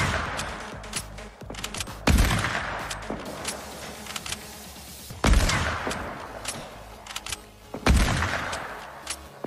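Sharp gunshots from the video game Fortnite during a sniper battle: three loud, separate blasts, each followed by a long rumbling tail, over a steady background of game ambience.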